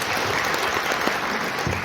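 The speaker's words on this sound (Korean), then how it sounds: "노주환 전문의께 다시 한번 큰 박수" A seminar audience at a hotel CEO seminar on the defense industry giving a lecturer a round of applause, a brief burst of steady, dense clapping from many people, close and uninterrupted.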